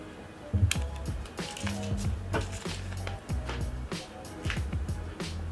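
Protective plastic film and a back sticker are peeled off a Poco F3 smartphone in Night Black, close up, with a run of soft crinkling, rustling and tacky peeling noises in short irregular bursts.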